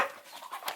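A duck-hunting dog whimpers briefly outdoors, a short soft whine with a few faint rising squeaks, close by and alone.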